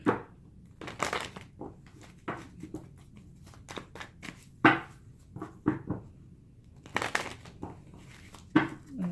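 Repeated crisp papery riffles and snaps of a tarot deck being shuffled, in short bursts with brief pauses, close and fairly loud, no voices.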